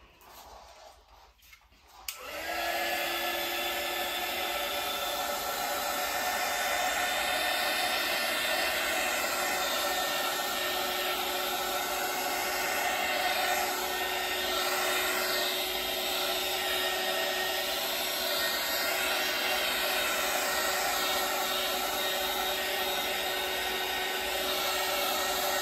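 A hair dryer blows hot air onto an acrylic paint pour with silicone, switching on after a brief handling noise and then running as a steady, loud whir and rush of air.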